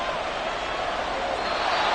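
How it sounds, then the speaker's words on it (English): Crowd at a football game applauding after a defensive play, a steady dense wash of clapping and cheering holding at an even loudness for the full length, with no distinct voices standing out. "They're going to give out a little applause on that play."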